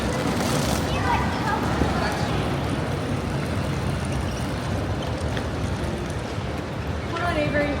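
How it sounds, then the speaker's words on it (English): Steady low engine rumble of a water taxi in Venice, Italy, with water churning around it, continuous throughout, with faint voices in the background. "and into these water taxis"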